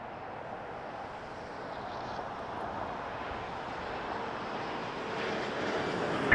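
A Porter airliner takes off from runway 24 at Toronto Pearson, its engines a steady, broad roar that swells slowly from a distance with wind noise and no voices.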